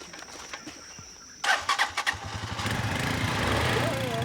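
A motorcycle engine cranks and catches outdoors in Cameroon before an hour-long bush ride on a loaded bike, the start coming as a burst of sputters that settles into a steady running idle, with birds faint in the background.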